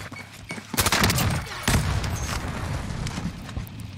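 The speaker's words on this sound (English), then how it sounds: "the old throw a grenade at the floor and run for your life" A grenade goes off in the shooter Warzone, a loud close blast followed by a dense rumbling crackle of debris and gunfire that carries on for several seconds.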